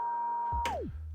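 A steady pure sine tone, the continuous test tone from a DJ scratch samples file, holds level and then slides sharply down in pitch near the end as a deep thump enters underneath.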